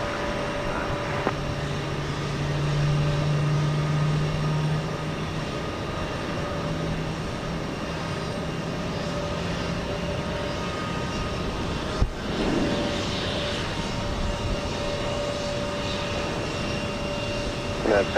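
Airbus A319 taking off at Houston Intercontinental, a steady distant engine roar holding through the whole stretch with tower radio chatter over it and a brief thump near the middle.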